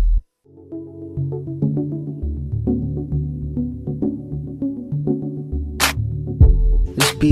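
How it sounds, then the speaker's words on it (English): A simple programmed beat with a keyboard part, kick drum and snare drum plays loud and clear. Sustained keyboard chords sit over a steady thumping kick and crisp snare hits, with no talking. "We only have a keyboard sound, a kick drum, and a snare drum."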